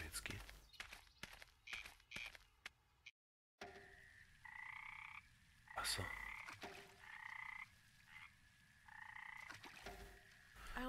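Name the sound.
frogs croaking at a swamp lake in the video game Memoranda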